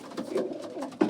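Young pigeons in nest boxes coo with low, throaty, rolling calls while feeding on breeding mix, several soft overlapping coos close by and one louder coo near the end.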